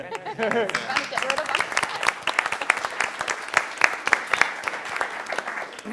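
Audience at a meeting applauding steadily for several seconds, dense clapping with some talk mixed in.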